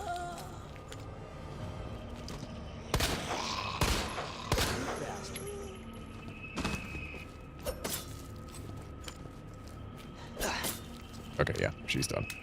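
Handgun fire in the video game Resident Evil 2 (2019): a dozen or so sharp shots come in irregular bursts, some close together, with impacts and a voice murmuring underneath.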